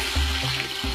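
Onions fry in hot oil for Ambur chicken and mutton biryani, a brief steady sizzle with soft bubbling, close and moderately loud, with no talking.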